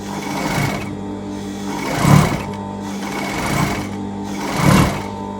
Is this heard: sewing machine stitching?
yes